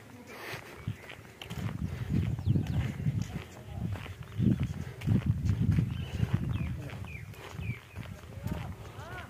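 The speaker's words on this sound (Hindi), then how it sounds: "घोड़े नाल" Horse hooves clip-clop at the historic Derawar Fort in Cholistan, Bahawalpur, a loose rhythm of hoof strikes over faint background noise.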